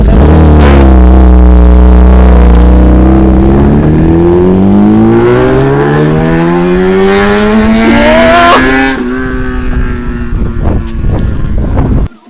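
Loud, close Kawasaki ZX-10R sport motorcycle engine revving up in rising pitch for several seconds, then cutting off, followed by quieter idle and faint background noise.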